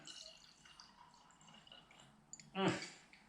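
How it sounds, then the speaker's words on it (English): A drink poured into a glass near the end, a short gurgling burst of liquid after quiet background sound. "Good pour this time. Nailed the pour on that one."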